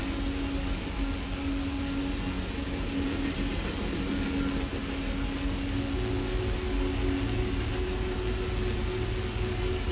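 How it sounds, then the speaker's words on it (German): Steady interior rumble of a moving train, with continuous low wheel and track noise and a faint sustained tone running throughout, no voices. "Aus irgendeinem Grund sehen wir jetzt plötzlich hier in einem Zug."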